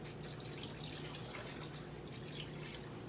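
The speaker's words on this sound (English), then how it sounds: "So I add more water to it." Water pours steadily into a cooking pot during home recipe preparation, a continuous splashing rush that stays even from start to finish with no pauses.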